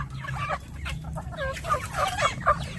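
Hungry turkeys and chickens at feeding time make overlapping clucks, gobbles and squawky calls, close and busy over a low background rumble.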